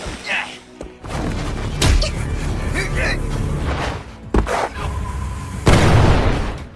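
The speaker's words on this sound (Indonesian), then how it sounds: "bom itu berhasil ditendang hingga membuat ledakan di sekitar tempat tersebut" A bomb kicked away in an animated Chinese donghua fight blows up with a loud boom followed by crashing bursts and further blasts, while a narrator's voice runs over the action.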